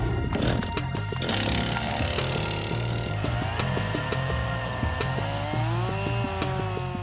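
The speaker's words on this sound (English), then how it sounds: "To speed up the process, Naked Science calls in the chainsaws." Chainsaws cutting wood to build a boat, a loud, continuous, close snarl that shifts pitch as the blades bite into the timber, with no talk.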